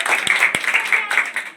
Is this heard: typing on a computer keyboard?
no